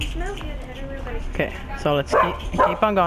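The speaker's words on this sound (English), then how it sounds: "My dog barks every video for some reason." A pet dog barks and yips indoors during a Far Cry 4 gaming session, short sharp barks mixed with whimpers heard under someone talking over game sound.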